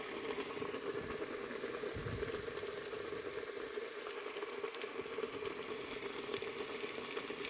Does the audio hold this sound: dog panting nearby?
no